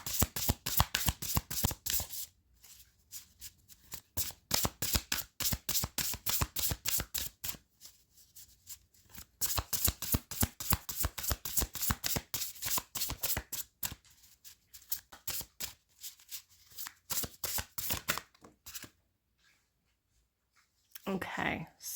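A deck of oracle cards shuffled by hand gives rapid, close riffling flutters in quick repeated bursts, with short pauses between rounds and some soft talking near the end.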